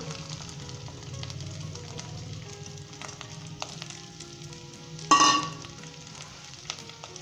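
Steady oil sizzle and crackle from ginger and garlic frying in a pan, with a brief louder burst of spitting partway through.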